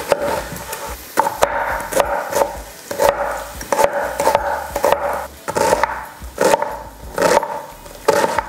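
Onion being chopped on a board for a Filipino caldereta, a run of crisp knife taps in quick irregular bursts, fairly close and clear, with no talk.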